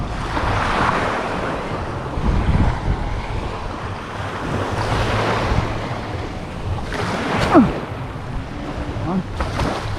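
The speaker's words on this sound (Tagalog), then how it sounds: "Humangin. Bakit ka naman humangin?" Gusting wind rushes past the microphone at a beach fishing spot, with surf washing behind it, rising and falling in loud buffets over the whole stretch.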